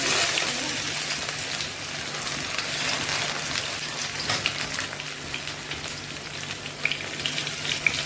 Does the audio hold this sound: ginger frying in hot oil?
yes